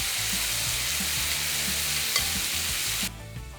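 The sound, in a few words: marinated mushrooms frying in a pan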